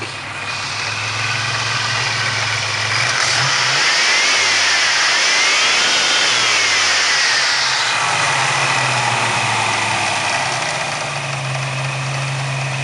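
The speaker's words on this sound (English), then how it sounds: "That alternator, I've got a rebuild kit for it, but that's kind of, that's the rattle that you hear." A Grand National car's engine runs with a rattling alternator, idling steadily up close with a brief rise in revs partway through before settling back.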